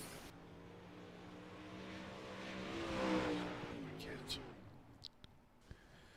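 UMP modified race cars roaring in a pre-feature warm-up session at a dirt track, a fairly distant engine drone that swells and fades as they pass, followed by scattered sharp clicks and knocks.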